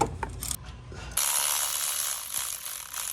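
Ratchet and socket clicking as a nut is tightened during a fuel injector job on a 6.0 Powerstroke diesel engine, a close, dry run of rapid pawl clicks with a louder burst partway through and no talk.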